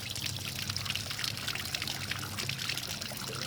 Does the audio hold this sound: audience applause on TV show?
no